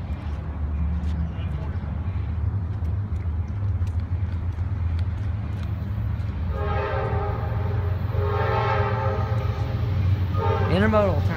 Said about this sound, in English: These are the loudest horns in CSX, I swear.